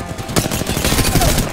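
Rapid gunfire from the video game Apex Legends rattles in dense, continuous bursts for the whole moment, loud and close, with a sharper crack partway through.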